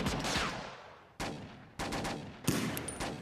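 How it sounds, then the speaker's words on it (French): Gunfire aimed at police in a French action film, several loud bursts of rapid shots separated by short decaying gaps, sharp and fairly close. "je crois que c'est des flics sur qui on tire"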